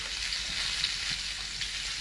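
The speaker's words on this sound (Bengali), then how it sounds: "খিচুড়ির জন্য আলু কুমড়ো কেটে রেখেছি, এটা ভেজে নেব" Diced potato and pumpkin frying in a pan with salt for khichuri give a steady, close hiss of sizzling oil, continuous and even throughout with no talking.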